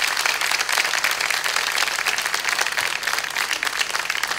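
Sustained applause from an audience filling a hall during a Turkish art music concert night, dense steady clapping throughout with no pause.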